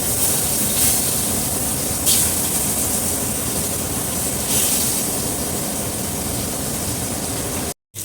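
Pointed gourd (potol) fries in a little oil, giving a loud, constant hissing sizzle with a few brief bursts, cutting off abruptly just before the end.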